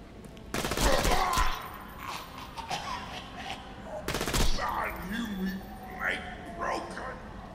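Bursts of automatic gunfire ring out as enemies are shot in Borderlands 2, with two loud rapid volleys separated by quieter shots and clatter, while people talk and laugh over the action.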